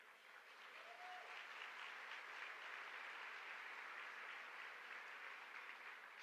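A crowd applauds Houston Mayor Sylvester Turner at his State of the City Address, with steady, even clapping that fills the whole stretch at moderate loudness.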